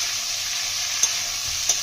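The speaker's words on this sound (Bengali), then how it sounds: "ভেন্ডিগুলো দিয়ে একটু নাড়াচাড়া করে জল দিয়ে" Okra sizzles as it is stirred and fried in a pan, a dense continuous hiss with two brief scrapes from the utensil, close and fairly loud with no voices.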